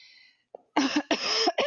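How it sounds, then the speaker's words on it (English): A few harsh coughs in quick succession, close and fairly loud, after a brief high tone and a short gap of silence. "you may notice some coughing and sort of a hoarse voice going on."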